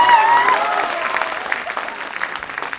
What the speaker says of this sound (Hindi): रोक कर रखना तालियां, अब तालियों को रोक कर रखना